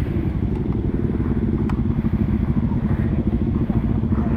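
A motorcycle engine runs steadily close by, a continuous low rumbling drone with faint clatter, lasting throughout without a break.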